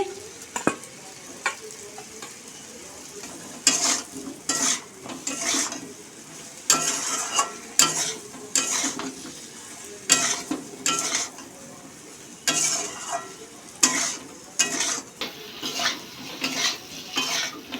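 Potatoes and ridge gourd fry in a pan for a fish curry, a constant sizzle broken by repeated loud scrapes and clinks of a spatula stirring against the metal, close and with no talking.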